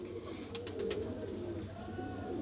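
Pigeons of many varieties kept in netted coops coo steadily and softly, a low continuous murmur with a few brighter flutters, no talk.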